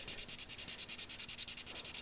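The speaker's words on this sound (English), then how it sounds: "So I think I need to sand a little bit more of an angle." Sanding a Gunpla model kit's curved plastic skirt part, close and quiet rhythmic back-and-forth strokes at a steady pace, about a dozen scratchy rubs in quick succession with no talk.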